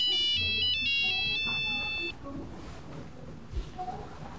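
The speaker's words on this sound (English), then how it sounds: "I will call it right now and see what's on it. Hmm? It's ringing." A telephone ringtone trills in short repeating bursts for about two seconds, fairly close and clear, then cuts off, leaving quiet room tone with a faint thump.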